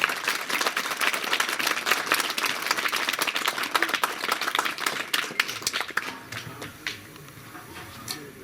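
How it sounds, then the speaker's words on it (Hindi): A crowd at a school event where free sweaters are handed out to students applauds loudly with dense, steady clapping that tapers off into a few scattered claps near the end. "एक बार जोरदार तालियां"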